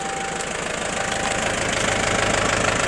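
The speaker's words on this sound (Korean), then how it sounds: "이 디젤 엔진은 소리가 너무 커요." A 1990s first-generation Kia Sportage diesel idles loudly up close, with a steady clattering knock and a rough, even rhythm throughout.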